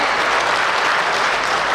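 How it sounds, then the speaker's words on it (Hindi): A rally crowd applauds a candidate with dense, sustained clapping from many hands, loud and even throughout a brief burst. "जोरदार ताली एक बार जो है राम हेर जी के लिए आप बजाएं"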